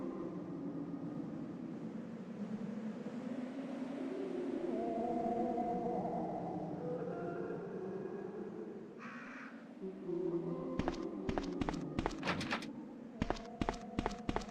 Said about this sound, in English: how you hear the zombies' moans over the winds